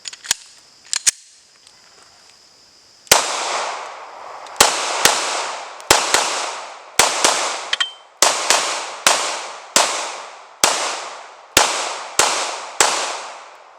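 A Glock pistol fed from Gen 4 15-round magazines fires about a dozen sharp, loud shots in a steady, slightly uneven rhythm, each one ringing out briefly. A few faint clicks come before the shooting starts.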